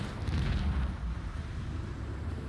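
Torpedo salvo detonating in the space combat of the video game Rogue Trader, a deep, rumbling explosive roar that holds steady and heavy for a couple of seconds with no voices over it.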